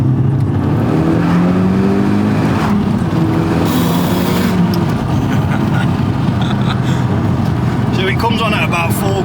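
Audi S3 TFSI with a stage 1 remap, its engine droning loudly inside the cabin under steady acceleration, with constant road and wind roar and people talking over it.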